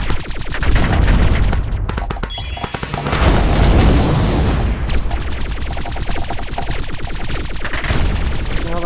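Shots and explosions in the arcade shooter Syder Arcade: rapid, continuous bursts of loud weapon fire over dense booming blasts that run nearly nonstop throughout.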